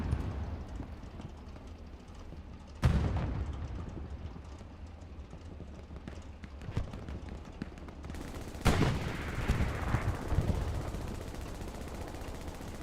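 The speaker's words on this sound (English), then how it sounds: "Hayes, Haas back here on the roof with that MG42." An MG42 machine gun fires from a rooftop in a Hell Let Loose match at Carentan train station, with loud bursts and scattered distant gunfire over a continuous battlefield rumble.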